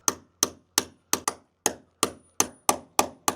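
A hammer strikes an exposed wooden beam about eleven times in a steady rhythm, each blow a sharp close knock with a short ringing tail, and no voices.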